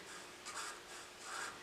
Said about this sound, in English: So the first thing we'll do is write new,